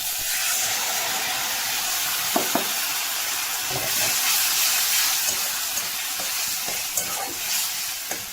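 Onion and ground spice paste frying in a pan, a loud continuous sizzle and hiss with occasional stirring scrapes and knocks, close up and without talk.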